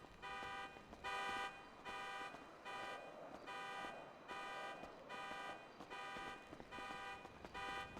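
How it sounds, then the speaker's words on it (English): A car alarm in the NoPixel GTA role-play game repeats a steady electronic tone in regular on-off pulses, moderately loud against a faint background rumble. "this car alarm's pissing me off."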